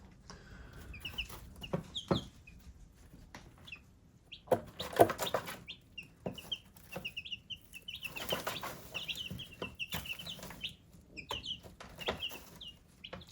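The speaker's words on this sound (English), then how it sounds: "Chickens on the roost there." Chickens settled on their roost give off soft, scattered clucks and murmurs, with occasional bursts of wing flapping and rustling, fairly close and quiet.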